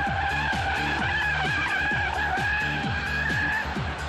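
Škoda Fabia braking hard into the first corner while racing a Mini, tires skidding and squealing in a loud, sustained screech over a droning engine, with no talk.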